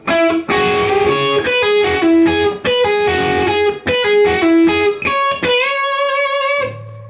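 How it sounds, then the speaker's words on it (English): A distorted electric guitar works slowly through line four of a solo in a minor blues scale, with separate picked and bent notes and a final ringing note, loud and up close. "Okay, now we're on to line number 4."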